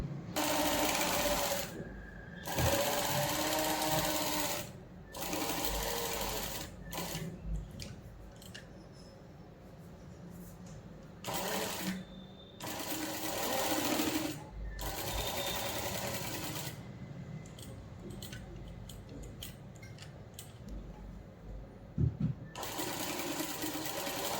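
A domestic sewing machine stitches along the square neckline of a two-piece katori blouse in runs of steady rapid whirring, broken by short pauses and soft handling noises, close and fairly loud.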